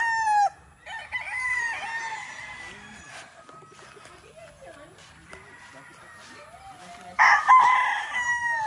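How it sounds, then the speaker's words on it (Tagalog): Chickens on a farm clucking and a rooster crowing loudly, with a long crow near the start and another loud one toward the end, while a person talks in between. "Ayun po, ang dami natin pong manok."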